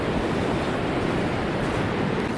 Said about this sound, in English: This is a little stream. Goes to the ocean.